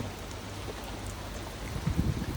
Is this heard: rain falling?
yes